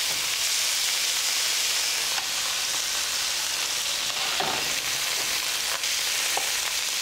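Meat searing in a hot pan gives a steady, loud broadband sizzle and crackle throughout, with a few brief stirring clicks and no talking.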